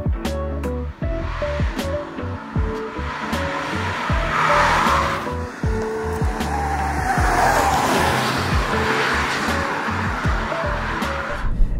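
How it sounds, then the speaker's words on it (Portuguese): A 2022 Audi A3 Sedan drives along a quiet winding asphalt road, its engine revving up and down through shifts with tire noise and brief squeals in the bends, loud and close. "Trafegando em via asfaltada, tranquila e com curvas sinuosas."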